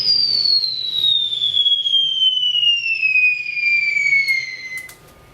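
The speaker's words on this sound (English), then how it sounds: "Fire this Scud missile!" A Scud missile fired in a comic war sketch, heard as a long descending whistle that slides steadily downward for about four seconds over a faint rumble, then cuts off with a soft pop before near silence.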